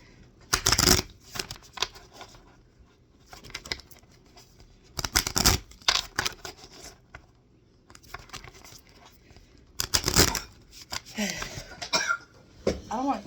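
Oracle cards shuffled by hand in several quick bursts of riffling and flicking, close and crisp, separated by short quiet pauses.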